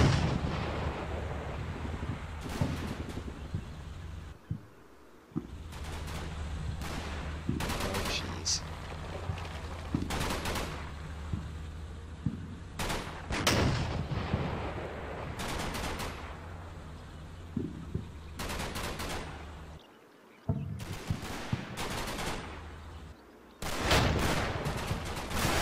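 Machine gun bursts and booming artillery fire crackle through a World War II Normandy combat game, loud and repeated with brief lulls, while someone talks over the battle.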